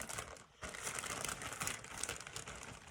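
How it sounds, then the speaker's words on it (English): Plastic bag crinkling as a damp paper towel is pushed inside, a soft, close, continuous rustle with one short pause, no talk. "I'm going to put the damp paper towel inside my plastic bag."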